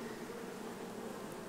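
Honey bees buzz steadily around an open hive frame during a summer split, a dense, continuous drone close by with no talking.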